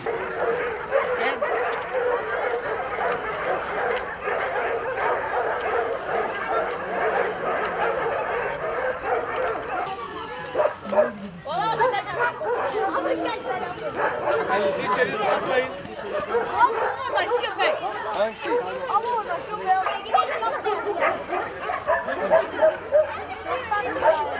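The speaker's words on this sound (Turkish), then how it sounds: "Yavru tatlı köpekler var." Several dogs barking and yipping at an animal shelter, with occasional whimpers, close and continuous over a steady babble of people talking and chattering nearby.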